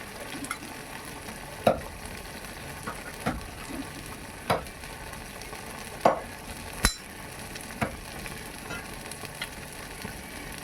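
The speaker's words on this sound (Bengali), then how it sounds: "দিয়ে আবার ভালো করে নেড়েচেড়ে ভেজে নিচ্ছি" Pointed gourd (potol) fries in a pan with turmeric, salt and a little sugar, a continuous sizzle broken by regular sharp scrapes and taps of a spatula stirring, close and alone.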